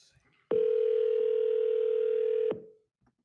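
An outgoing telephone call gives a single sustained ring tone, steady and clear for about two seconds before cutting off, with faint background sounds around it.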